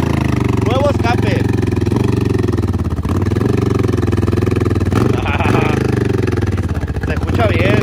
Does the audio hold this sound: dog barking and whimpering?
no